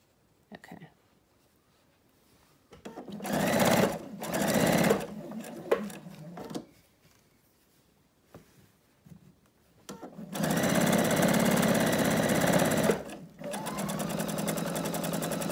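A home sewing machine chain piecing raw-edge denim strips for a quilt-as-you-go block, running in two bursts of steady whirring stitching separated by quieter handling and pauses.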